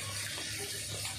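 Water added from a bowl to spiced masala for chicken tikka biryani, a steady soft pouring wash heard close and alone, with no talk over it.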